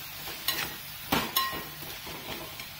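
A spoon works through sweet Bengali tomato chutney with raisins, aam papad and black salt in a pan, giving a few soft scraping, knocking strokes over a low, steady simmering sizzle, with no talking.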